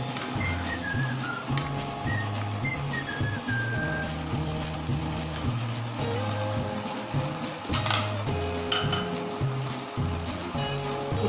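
Mustard greens (sawi) are stirred and fried in a pan, giving a continuous sizzle with scraping stirring noises, while faint whistling tones drift in the background.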